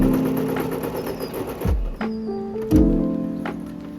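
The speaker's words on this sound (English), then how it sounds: "then I just did a regular straight stitch when sewing the bonnet closed" A sewing machine runs a straight stitch to close a fabric bonnet, a close, loud motor whir in two bursts with brief pauses between them.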